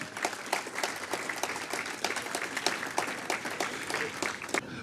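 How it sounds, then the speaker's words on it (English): An audience at an awards ceremony for laundry and dry cleaning businesses claps steadily and warmly, dense sustained applause filling the hall throughout. "your applause please"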